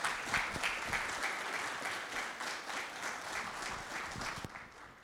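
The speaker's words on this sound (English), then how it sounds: "Let's give these guys a round of applause" Steady applause from a conference audience after a CFO panel discussion, dense clapping sustained for about five seconds before tapering off near the end, with no voices over it.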